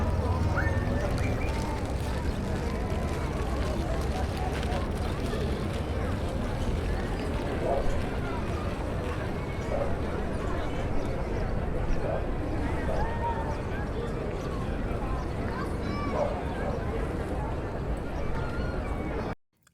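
A crowd recorded in first order Ambisonics fills the space with a dense, continuous murmur of many distant voices and footsteps, steady and moderately loud throughout, with no single speaker standing out.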